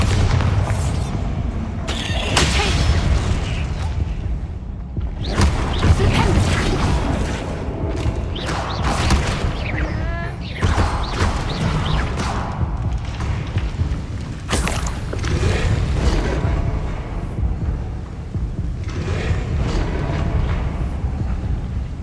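Repeated Bombarda explosion spells go off in Hogwarts Legacy: loud, booming blasts and crashing debris follow one another over a dense, constant rumble of game noise.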